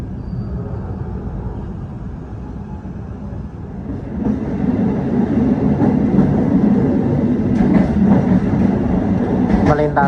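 The KA Menoreh train runs straight through Semarang Poncol station without stopping: a broad, steady rumble that swells louder partway through, with sharp rail clicks and rattles near the end.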